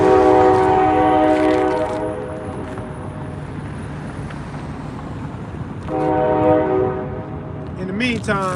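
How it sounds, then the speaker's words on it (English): A train horn blares with strong harmonic tones near a parking lot, sounding twice with a quieter stretch of rumbling passage between, loud and close, with a brief voice at the end. "Damn, the train is in the parking lot."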